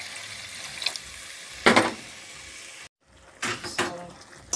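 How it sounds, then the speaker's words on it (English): Water being added to a pot of Jamaican brown stew slice fish comes as two short splashing pours separated by a brief silence, close and moderately loud, with no talking. "I'm going to add some water."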